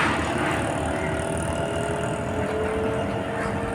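A Motovolt URBN e-bike accelerates gently in its first assist mode, giving a steady, continuous hum with a faint rising whine and constant rushing wind and road noise throughout, close to the rider.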